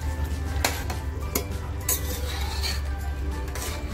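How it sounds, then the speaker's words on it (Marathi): Kolhapuri mutton curry simmers on a low gas flame in a pot, making a low, continuous bubbling rumble broken by a few light metallic clinks and scrapes of a spoon against the pot. "तर बघा, आपलं मटण किती छान उकळतंय."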